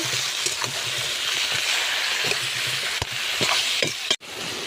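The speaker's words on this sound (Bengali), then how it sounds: "তারপরে হলুদ, লবণ, একটা কাঁচা লঙ্কা, তারপরে নেড়ে" Spinach curry with turmeric, salt and a green chili sizzles steadily in a hot pan while a spoon stirs it, with scattered scraping taps and one sharp knock near the end.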